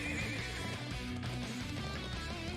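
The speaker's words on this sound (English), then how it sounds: "thoroughbred war horses from the Bardius family's own stables" Thoroughbred war horses neighing in the game Trails of Cold Steel IV, a drawn-out whinny over a busy bed of game music and ambience, moderately loud throughout.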